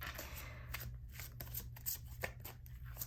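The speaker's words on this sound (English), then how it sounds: "I do want to give these a good bridge shuffle because these are fun to bridge shuffle" Close, crisp bridge shuffling of a tarot deck, with fluttering riffles and soft slaps as the deck bridges back together, over a low steady hum.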